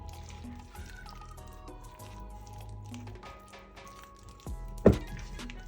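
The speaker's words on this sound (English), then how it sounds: "Just gonna add a little bit more water, and then we continue mixing" Water is poured into Jamaican saltfish fritter batter during mixing, a soft, steady liquid trickle and squishing with a brief louder splash near the end.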